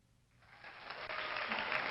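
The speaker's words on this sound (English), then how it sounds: "I got canned applause right here at my fingertips." A canned applause sound effect triggered by a button at a Toastmasters anniversary event fades up quickly from near silence into a bright, steady burst of recorded clapping lasting under two seconds.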